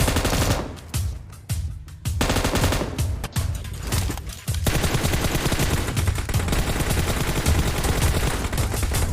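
Rapid automatic gunfire in the PUBG Mobile battle royale game, loud and dense, with bursts of rattling shots broken by brief pauses early on, then near-continuous firing to the end.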